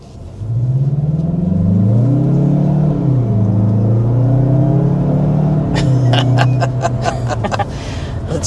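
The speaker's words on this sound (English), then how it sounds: "the engine itself kind of has like a deeper sound" A 2025 Mazda CX-30 engine accelerates from inside the cabin, a loud, deep drone rising and shifting through the gears, with a brief chuckle toward the end.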